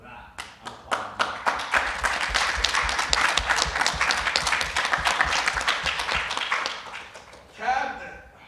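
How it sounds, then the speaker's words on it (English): Applause for a university student senate at a meeting, beginning with a few individual claps and swelling into steady group clapping that tapers off, followed by a brief voice at the end. "So for that, I'm applauding you."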